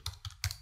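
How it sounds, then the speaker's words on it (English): Typing on a computer keyboard while entering text in video editing software, three close, crisp keystrokes in quick succession. "Now let's type description over here."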